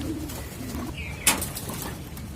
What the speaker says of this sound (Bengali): দেখেন কবুতরগুলা কি সুন্দরভাবে গোসল করতেছে